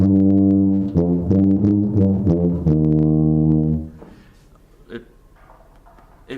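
A tuba plays an etude phrase of sustained low notes with short articulated breaks and one small breath gap, loud and close. It ends abruptly around the four-second mark and is followed by a quiet room with faint shuffles.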